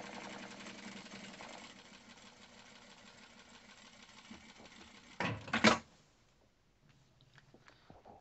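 A sewing machine runs a straight seam with a steady, faint mechanical whir for several seconds, then stops after a brief louder burst of handling noise near the end.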